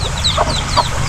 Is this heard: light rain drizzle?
no